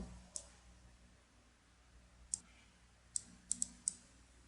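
Mouse clicks in a graphics program while editing grouped objects: a lone click, then a few sharp, close taps including a quick double-click pair, spaced over a quiet room background.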